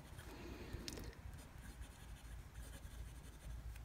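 A fountain pen with a medium nib scratches softly across paper, faint close strokes with a brief sharper scrape near the start and otherwise quiet, steady scribbling.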